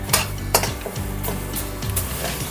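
Broken wheat porridge (dalia) for Rajasthani laapsi dry-roasts in a pan on a low flame, with a spoon scraping and clinking against the metal in an uneven rhythm over a soft, steady background.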